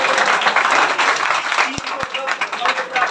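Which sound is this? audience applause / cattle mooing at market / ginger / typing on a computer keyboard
audience applause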